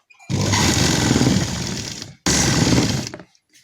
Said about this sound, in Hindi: अब हम एक सिलाई यहाँ पर लगाएंगे, आप सेंटर में भी लगा सकते हैं इलास्टिक के।